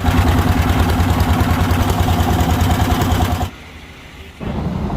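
A boat engine runs loudly and steadily near a river crossing at Bholaganj, Sylhet, then drops out abruptly for about a second before the low rumble returns.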